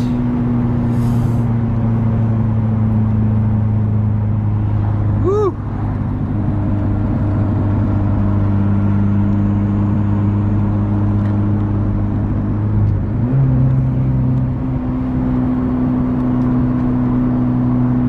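A second-generation Mitsubishi Eclipse running Speeduino engine management drives at about 40 mph with a steady droning engine hum and a whirring tone, easing into brief small pulls, loud and close from inside the car.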